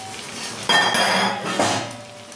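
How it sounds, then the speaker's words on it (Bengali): A lid comes off a pot of spicy yardlong beans and potatoes cooked covered on low steam heat, giving two clattering metallic knocks of cookware close by with a soft cooking hiss underneath and no talking. "এখন চাপাটা খুলে দেখব"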